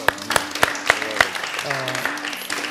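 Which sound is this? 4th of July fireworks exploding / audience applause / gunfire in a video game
audience applause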